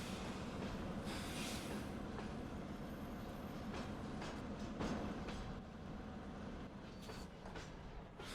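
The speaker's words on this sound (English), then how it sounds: "there's one location where the train" A train in a farming video game rolls along the rails with a steady rumble and repeated clickety-clack over several seconds, moderately loud and without talk.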